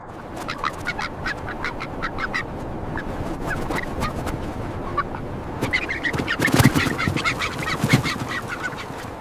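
A three-day-old gosling on a 400-foot cliff edge calling, repeated short honking peeps at close range over a rustling background, growing louder and denser toward the end.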